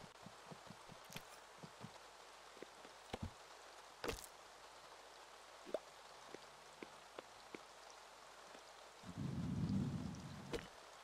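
Thunder rumbles in the video game Staxel, a single deep, swelling roll rising near the end over soft rain-like patter and scattered sharp ticks, with no talking.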